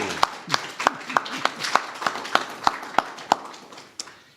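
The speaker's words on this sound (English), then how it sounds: "So let's give David a warm round of applause" Sparse, distinct claps from a small audience honoring a lecturer at a peace federation event, about a dozen sharp hand claps spaced fairly evenly, fading out near the end.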